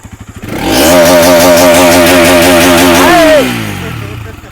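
A Bajaj Pulsar NS200 motorcycle revs hard from idle, its loud buzzing exhaust climbing and holding high, then dropping back to a rumbling idle, close up with no talking.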